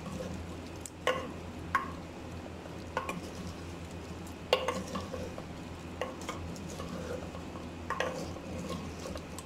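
Mutton with garam masala being mixed in a handi, heard as scattered spoon scrapes and light knocks against the pot over a constant low background, moderate and unhurried.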